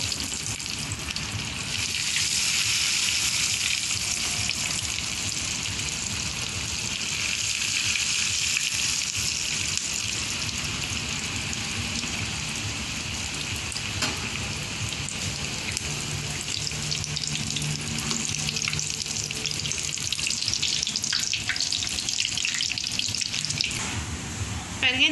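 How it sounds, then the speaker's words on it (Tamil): Bread rolls deep frying in hot oil give a continuous hiss and sizzle that holds steady for the whole stretch, heard close up with a voice talking faintly now and then. "ஓகே, எண்ணெய் ஊற்றி இப்போ எண்ணெய் சூடாயிடுச்சு. இப்போ நம்ம அதை பொறிச்சிடுவோம்."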